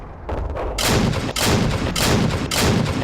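A Cruiser IV tank's main gun fires in a tank battle game, with about four heavy, booming blasts at a steady pace, each loud and close and followed by a rumbling tail, and no one speaking.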